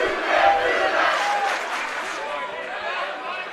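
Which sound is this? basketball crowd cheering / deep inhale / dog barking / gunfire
basketball crowd cheering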